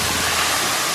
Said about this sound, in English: It's like man-made waterfall.